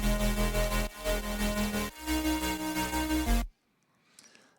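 Open-voiced synth chords with the root low in the bass and a third a couple of octaves above play in sustained, pulsing swells for about three seconds, then stop abruptly into near silence.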